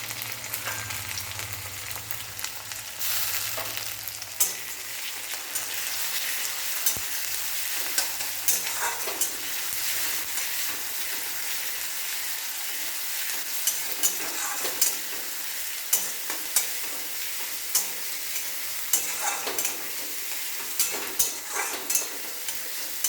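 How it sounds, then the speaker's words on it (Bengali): Garlic paste sizzles in hot oil in a wok alongside broken dried chillies and onion, with steady crackling frying and repeated scraping stir strokes throughout, close and continuous with no talk. "ভাজা রসুনটাকে খুব ভালো করে ভেজে নেব"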